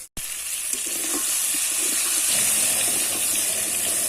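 Eggplant slices fry in oil in a pan at an outdoor cooking spot, a steady close sizzle and hiss that keeps going after a sharp start, with faint clinks of a utensil now and then.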